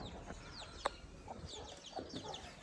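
Hens on a farm cluck in soft, scattered bursts, several birds calling close by in short irregular notes with one sharper squawk.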